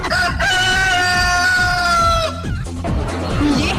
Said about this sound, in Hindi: ये है चाइनीज मुर्गा